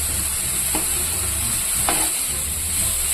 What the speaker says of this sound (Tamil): இது நல்லா வதக்கி வச்சிடலாம்.